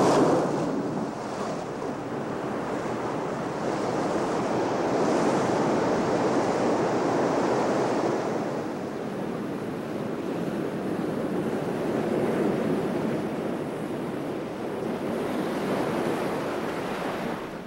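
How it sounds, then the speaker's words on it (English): Loud ocean surf surges continuously against the southern Australian coast, with gusting wind roaring over the breaking waves and no voices. "These surging waves bring food and oxygen to sustain the plants and animals which flourish in these southern waters."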